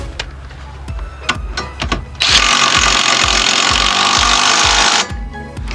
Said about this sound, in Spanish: aquí nada más ponemos lo que es su tuerca y apretamos